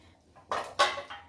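A lid is set onto a cooking pan of shahi paneer with two or three quick metallic clanks, close and fairly loud, with no talking.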